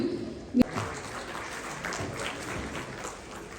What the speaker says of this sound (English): Can we give them a round of applause for supporting?